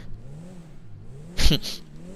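A street-style drift car in GTA V revs its engine, a low droning hum rising and falling before a short, loud burst of revving near the end, with no talking.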